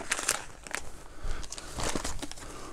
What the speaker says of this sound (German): Dann haben wir hier mal eine Tüte.